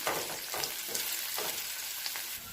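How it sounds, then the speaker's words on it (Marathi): Curry leaves and chopped coriander sauté in hot oil in a pan over low gas, a steady close sizzle with soft stirring scrapes throughout. "कढीपत्ता, थोडीशी कोथिंबीर व्यवस्थित असं परतून घ्यायचं।"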